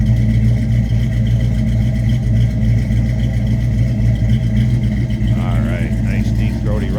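Steady low rumble of a 1991 Ford Mustang LX convertible's 302 V8 idling nearby for several seconds, with a person talking briefly near the end.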